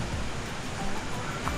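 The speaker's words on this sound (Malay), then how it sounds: "Tapi dia boleh dengar air sungai." Steady broadband rush of river water flowing near a campsite beside a river, continuous and even throughout with no voices.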